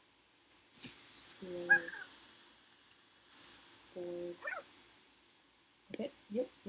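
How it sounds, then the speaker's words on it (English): Growling and yipping calls from a Pokemon creature in Minecraft Pixelmon, coming in several short bursts a few seconds apart at moderate level, with brief game noises in between. "Whoa, that's a weird Pokemon. It growls at me."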